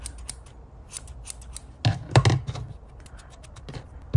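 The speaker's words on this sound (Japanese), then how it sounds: "ハサミを寝かしてほんと少しずつ" Small scissors held flat snip felted wool while trimming a needle-felted American Cocker Spaniel figure, a few soft close crisp cuts scattered over quiet rustling, with no voices.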